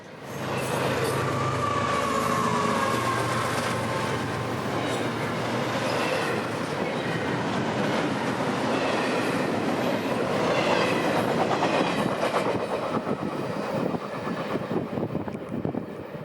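Freight train IO25, a high-priority intermodal, rolls past a grade crossing near Waycross, with steady loud rail roar and clattering wheels on the track throughout, growing slightly busier toward the end.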